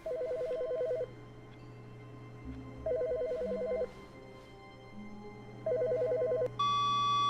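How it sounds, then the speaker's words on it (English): A telephone rings in The Stanley Parable video game, three evenly spaced electronic ring bursts with short pauses between them, clear and fairly quiet with no talking over it. "Oh, someone's ringing."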